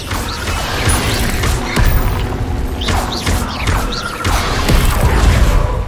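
Fire spells such as Incendio are cast in the Hogwarts Legacy video game, giving repeated whooshing bursts, thuds and crashes in a dense, continuous stream of spell effects.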